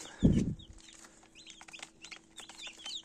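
A loud low cluck at the start, followed by high chirps and peeps scattered throughout, like crested chicks fresh from an incubator calling near a hen.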